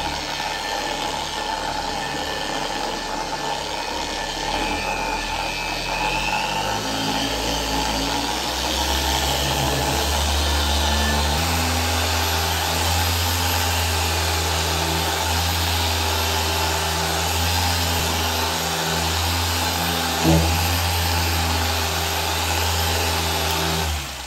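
An Astro Products horizontal car polisher fitted with a new sponge runs steadily, a continuous motor hum and whir whose pitch steps up and down as the speed changes, close and unbroken.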